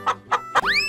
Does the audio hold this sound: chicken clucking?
yes